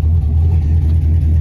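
A square-body truck's engine runs steadily at idle, a close, loud low rumble with an even, unbroken drone.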